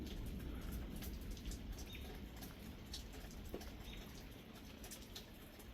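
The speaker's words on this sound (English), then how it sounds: "First thunderstorm of the year." Steady rain falls throughout a spring thunderstorm, a dense even hiss with scattered drips and faint bird calls in the background, with no thunder or voices.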